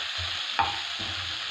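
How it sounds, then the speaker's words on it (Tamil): Onions and coriander sauté in a pan with a soft, steady sizzle, a brief stir or scrape cutting through midway, close and alone without talk. "வெங்காயம் கூடவே கொஞ்சம் கொத்தமல்லியும் போடுறோம். நல்லா வதங்கணும்."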